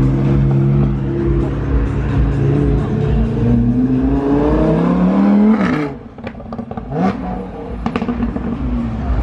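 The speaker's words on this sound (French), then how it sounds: "elle fait du bruit cette Huracan" Lamborghini Huracan supercar revving loudly at the roadside, its engine note climbing steadily over several seconds before cutting off, followed by sharp crackles and short blips from passing cars.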